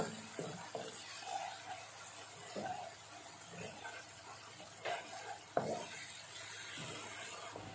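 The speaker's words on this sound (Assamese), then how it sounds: "এইখিনি এতিয়া পিয়াজ আৰু কেপসিকামৰ লগত মিলাই দিম।" Soya chunks are stirred with onion and capsicum in a pan for chilli soya, giving soft intermittent scraping and clinking of a spoon against the pan, quiet and close, with no voices.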